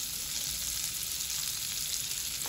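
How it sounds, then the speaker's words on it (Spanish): Chopped onion and garlic frying in butter and olive oil in a pan, a steady, close, continuous bright sizzle with no pauses and no talking. "Dejaremos un momento que sofría un poco la cebolla con el ajo y la mantequilla"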